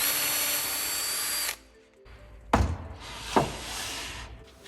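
A power drill runs steadily and loudly through a mini jig's drill bush for about a second and a half, then cuts off, leaving quieter handling knocks and rustles near the bench.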